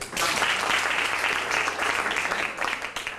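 An audience at The Ice House bursts into sustained applause, loud broadband clapping that starts almost at once and holds steady for about three seconds, easing slightly near the end.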